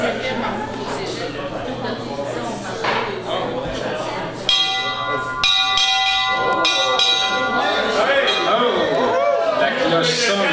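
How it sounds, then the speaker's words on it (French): Bell ringing at a citizens' assembly in Trois-Pistoles, ringing out clearly with sustained tones midway through while a room of people keeps chattering and talking around it. "La cloche sonne"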